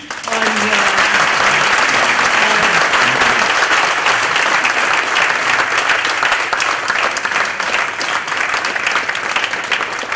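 A live audience gives poet Gulzar loud sustained applause at the close of an on-stage conversation. A voice speaks briefly at the start, then dense clapping fills the hall for about ten seconds.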